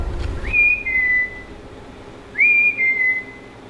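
Two clear two-note whistles sound a couple of seconds apart, each a rising note sliding into a lower held tone, close and fairly loud.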